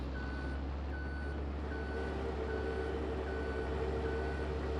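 Mining truck in a Farming Simulator gold-mining game on Elk Mountain, a steady diesel engine drone under regularly spaced reversing beeps, close and continuous.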